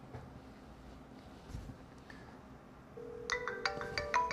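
Cell phone receiving a Magic Jack call, its ringtone starting up partway through as a bright melodic electronic ring over quiet room noise.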